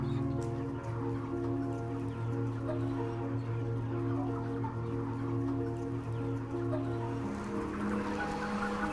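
Chickens fill a crowded farm shed with steady clucking and low murmuring calls, a dense unbroken flock noise with no talking over it.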